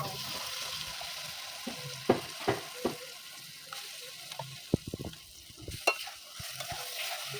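Ground chana dal paste sizzles steadily in hot oil in a pan for dhokar dalna, while a utensil stirs and scrapes it in a series of sharp, irregular knocks over the continuous frying hiss.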